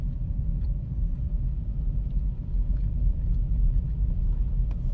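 A garbage truck engine rumbles steadily nearby, deep and continuous, swelling slightly louder toward the end.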